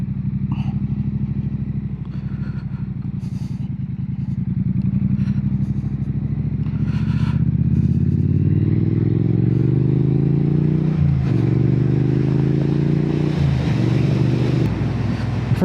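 A Triumph Bonneville motorcycle on the road, its engine droning and rising steadily in pitch as it accelerates, with constant rushing wind buffeting a helmet-mounted mic, loud and continuous throughout.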